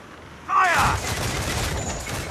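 Pirate ship cannons in Assassin's Creed 4 Black Flag fire in a heavy, rumbling volley during a naval battle, loud and close, with a noisy crash lingering afterward.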